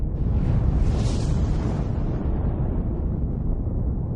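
A rumbling explosion sound effect representing a supernova, a loud sustained low roar that swells early and slowly fades over several seconds, with no voices.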